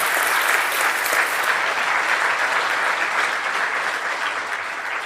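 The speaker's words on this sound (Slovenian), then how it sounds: "dajmo en aplavz za začetek" A conference audience applauds at the opening of a morning session, with steady, dense clapping from a large crowd that holds evenly and tapers slightly at the end.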